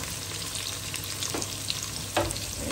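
Boiled meat stir-fried in a pan with sautéed garlic, onion and ginger for balbacua sizzles and crackles loudly and steadily, with a couple of scraping stirring strokes over the constant frying hiss.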